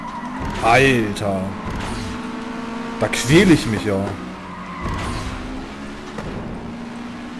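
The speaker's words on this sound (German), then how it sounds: "Der Motorsound, der geht mir so auf den Brenner." Car engines in the racing game FlatOut: Ultimate Carnage whine and rise in pitch, with tyre squeals rising over the top while someone talks over them.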